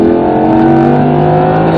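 An Audi car's engine on a performance race track drones loudly and steadily with strong, continuous harmonic tones for under two seconds, with no talking.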